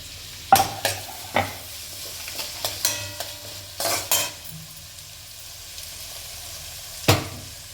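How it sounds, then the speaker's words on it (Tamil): Tomatoes lightly sautéed in a pan: a faint, low sizzle is broken by sharp, irregular spatula taps and clatters against the metal. "இந்த தக்காளி ரொம்பலாம் வதங்க வேணாம் சும்மா லைட்டாக பேருக்கு பண்ண போதும்"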